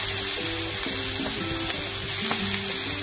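Grated carrots sizzle and crackle steadily in hot ghee in a pan for carrot halwa, a close, continuous frying hiss with faint stirring scrapes.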